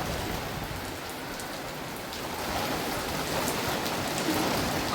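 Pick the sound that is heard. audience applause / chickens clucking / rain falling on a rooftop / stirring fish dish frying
rain falling on a rooftop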